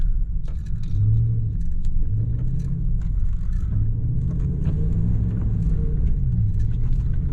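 A Ram pickup truck drifts sideways with the gas working and the steering cranked, its engine rumbling deep and loud throughout, pitch rising and falling as revs surge and ease.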